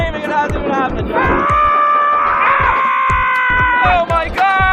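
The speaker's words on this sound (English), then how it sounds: "I'm already screaming, it hasn't even happened yet." Riders on an extreme roller coaster scream loudly and continuously, several voices overlapping in sustained, close shrieks.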